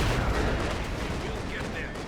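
Battle din in Company of Heroes 2 as the enemy attacks the HQ: dense, rumbling gunfire and distant explosions blend into a steady wash of combat noise, with a voice faintly mixed in.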